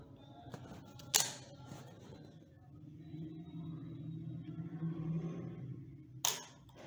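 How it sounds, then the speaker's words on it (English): A Canon EOS 60D takes a long-exposure shot of about five seconds: a sharp shutter click opens it, a quiet low hum fills the pause, and a second crisp click closes it. "Now I am taking a picture."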